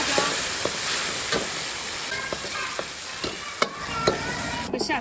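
Ginger, Sichuan pepper and chilies stir-fry in oil in a wok, giving a continuous loud sizzle broken by sharp, irregular spatula scrapes and clicks.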